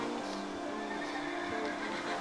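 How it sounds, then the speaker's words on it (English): A horse in the Minecraft video game whinnies in a single drawn-out neigh over faint background noise. "With our horses, we have made some pretty good ones."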